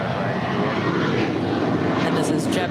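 A JetBlue airliner departing LAX for Newark gives off a continuous loud, broadband jet roar that holds steady throughout, with faint voices over it near the end.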